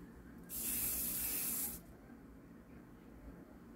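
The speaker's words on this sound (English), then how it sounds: "Now I'll spray it, lay that down." A single hissing burst of hair spray of about a second, close and bright, then quiet room tone.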